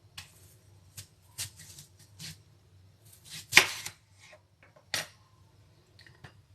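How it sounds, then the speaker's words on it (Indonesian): A knife slices through a golden pear with several crisp, separate cuts, one louder snap near the middle, the strokes spaced irregularly and close by on a quiet background with no talk. "Lalu kita potong, kira-kira sepertiganya kita potong"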